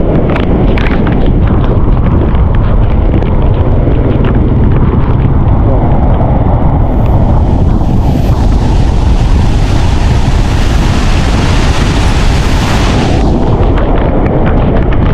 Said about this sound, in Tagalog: nagsisimula nang lumakas yung hangin dito sa labas